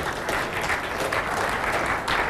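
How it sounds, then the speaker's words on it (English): Steady applause from spectators at an indoor lawn bowls championship semi-final, a continuous dense patter of clapping with slight swells, moderately loud and without speech. "not much applause"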